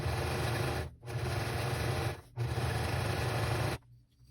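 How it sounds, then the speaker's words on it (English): A sewing machine stitches a narrow seam along the edge of a fabric scrap in three sustained close bursts, with short pauses between them and quiet at the end. "I'm going to sew that on along the edge as straight as I can get it"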